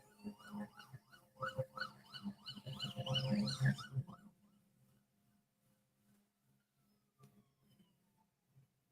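A wailing ambulance siren rises and falls repeatedly, growing louder for a few seconds before fading out, leaving faint background noise.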